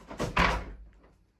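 An old original metal door at Fort Amsterdam in Ghana swings shut with a heavy scraping push followed by a solid closing thud, the sound echoing briefly before fading to silence.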